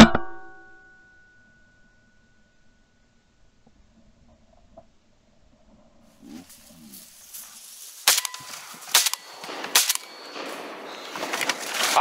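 Shotgun shots ring out during a duck hunt over decoys: after a long near-silent stretch, several sharp, sudden cracks come in quick succession, some close and some more distant, amid faint outdoor noise.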